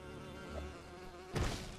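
Wasps swarming around a beehive in the LEGO Lord of the Rings video game, a steady thin insect drone that swells briefly toward the end, with no talk over it.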